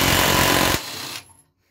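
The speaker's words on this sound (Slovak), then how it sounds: "Razový úťahovák povolil bez problémov na móde 400 Nm." An impact wrench hammers loudly and steadily for under a second, loosening an M14 nut at a 400 Nm setting, then drops away with a softer tail before silence.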